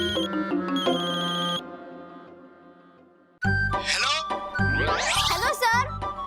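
A telephone ringtone plays a bright, tinkling electronic melody up close for about a second and a half, then fades. It gives way to lively, swooping voices and sound effects.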